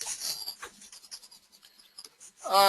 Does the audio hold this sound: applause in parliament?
no